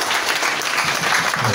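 A church congregation applauding, a dense, steady patter of many hands clapping at moderate distance.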